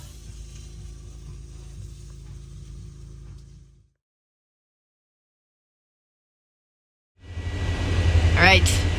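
Sausage sizzles in a pan at a camp during an Idaho elk hunt, cooked well done and dark. A steady close hiss breaks off into silence, then returns louder with voices over it.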